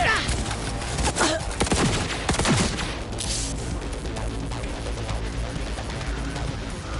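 Rapid bursts of automatic gunfire crackle in a firefight in the video game Cyberpunk 2077, loud and close at first, then settling into a busy stream of shots and impacts.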